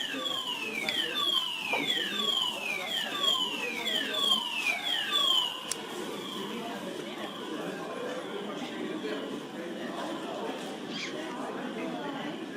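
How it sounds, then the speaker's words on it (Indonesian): A building fire alarm sounds as a rapid run of repeated falling electronic sweeps for about five seconds, then cuts off, leaving a background of murmuring voices. "This is a fire alarm."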